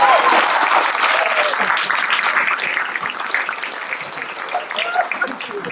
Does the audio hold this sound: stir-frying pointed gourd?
no